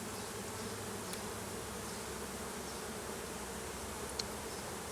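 Honeybees buzz steadily around an open hive frame holding honey, eggs and fresh comb, a dense, continuous hum close by with no talk and only a couple of faint clicks.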